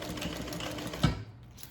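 A home sewing machine runs steadily, topstitching a quarter-inch line on an Annette handbag made of gray canvas, with a brief thump near the end before the motor note drops away.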